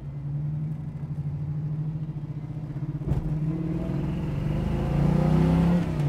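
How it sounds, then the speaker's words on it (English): A 1968 Chevrolet Nova with an LT1 Corvette V8 idles with a deep, loping rumble, then revs at half throttle near the middle, swelling louder toward the end. The engine is close and runs continuously with no talking. "And the accelerator works good. That was about half throttle."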